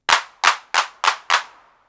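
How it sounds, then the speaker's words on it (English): Five crisp TR-808 style drum machine hand claps in an even, steady rhythm, each a sharp burst with a short fading tail, close and alone. "And we come to the hand clap in here."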